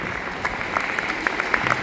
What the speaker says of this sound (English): We give Rolando a very big round of applause.